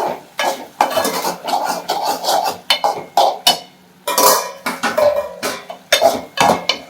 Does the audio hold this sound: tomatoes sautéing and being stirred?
yes